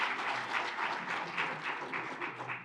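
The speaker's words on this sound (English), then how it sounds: "So a big round of applause to you, Roland." Audience applause at a World Bank economic report launch, a soft, steady patter of many hands that sounds somewhat distant and fairly quiet.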